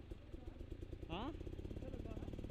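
An enduro motorcycle engine chugs with a low, lumpy, tractor-like grunt on a single-track trail, a rapid throbbing pulse throughout, briefly overlapped by a voice in the middle.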